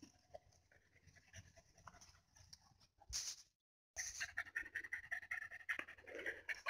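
Soft, rapid panting from five leashed dogs on an evening walk continues throughout, with light rustling and a brief gap of silence partway through.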